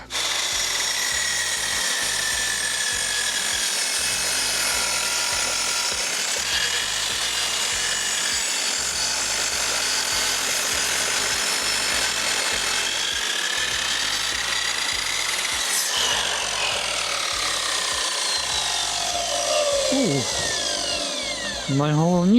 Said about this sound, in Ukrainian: різ ідеальний за рахунок того, що круг великий 305 мм, а потужність потужність мотора тут 2 2000 Вт